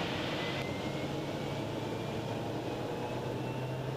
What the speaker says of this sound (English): Now we're gonna ease the power, prop RPM up.